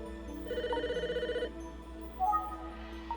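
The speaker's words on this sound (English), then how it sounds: "The phone is ringing." A telephone rings in the video game Famicom Detective Club, a fast trilling electronic bell pulsing for about a second over a steady background music drone, then softer game chimes follow.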